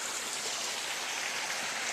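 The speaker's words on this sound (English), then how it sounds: "The Amazon Headwaters Creek is getting a little bit bigger." Amazon Headwaters Creek flows steadily in the hills, a constant soft hiss of rushing water heard alone and fairly near.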